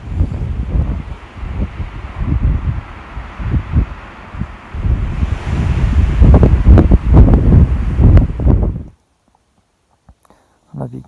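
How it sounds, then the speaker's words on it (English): Strong wind on a mountain during an elk hunt in Nevada batters the microphone in loud, gusting rumbles with rustling, then cuts out abruptly near the end. "This wind ain't running us off the mountain yet."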